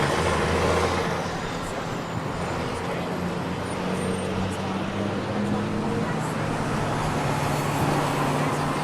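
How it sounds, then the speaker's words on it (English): Steady, dense roar of New York City street traffic with vehicles rumbling past continuously, a constant broadband wash of engine and road noise without a break. "so you can definitely hear all the traffic and everyone kind of passing by"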